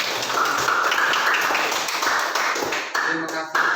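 A classroom of students applauds in a dense, steady patter that thins out near the end as a voice begins speaking over it.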